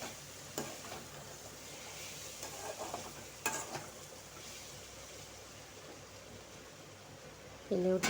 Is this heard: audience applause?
no